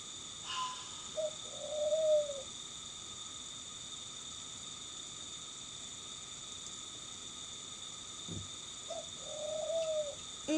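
A pet pigeon or dove named Gordon gives two loud, rising cooing calls a few seconds apart, heard alone over a steady background hiss.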